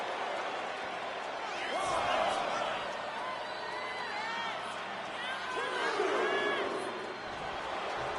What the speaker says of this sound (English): Nia is revving this crowd up.